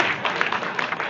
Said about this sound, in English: give Eric a round of applause.